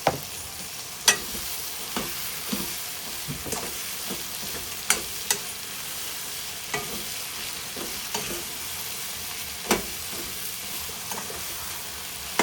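Eggplant pieces with salt fry in oil with a faint, steady sizzle, broken every second or two by sharp clicks and scrapes of a spoon stirring against the pan. No one speaks.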